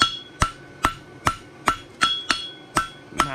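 A hammer strikes a hot steel bar shoe horseshoe on an anvil at a forge, eight sharp ringing blows at a steady, even pace, close and clear with no voices.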